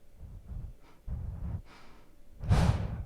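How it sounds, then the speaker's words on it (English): A deep diaphragm breath taken during a saxophone breathing lesson on air: a few soft breaths, then one loud, full rush of air near the end, close and with no talking. "when I use my diaphragm, I can get a whole breath like that"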